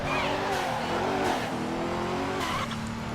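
Racing in Midnight Club 3: DUB Edition Remix against two Nissans and a Corvette: a steady, close engine roar with squealing tires and skidding, the whine shifting as the cars push through turns.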